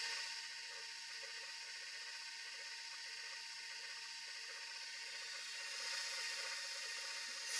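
Hand mixer beaters whirring steadily through a bread pudding mixture of eggs and other ingredients, a continuous close, moderately loud mechanical drone with no talk.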